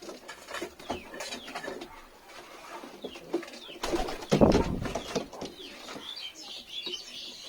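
Pigeons being handled at home coo in low bursts amid scattered chirps, rustling and wing flaps, with a louder cluster of coos midway, close and without talk.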